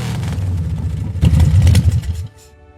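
A motorcycle engine rumbles close by on a residential street, a steady low throb that swells louder for a moment mid-way before cutting off abruptly near the end.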